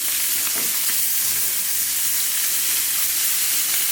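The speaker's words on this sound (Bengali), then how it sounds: "অতিরিক্ত গরম হয়ে গেছে তেল রান্নার মাছটাও বেশি ভাজব না" Fish frying in very hot oil, giving a loud, dense, continuous sizzle and hiss, close by, with faint stirring knocks near the start and no talk.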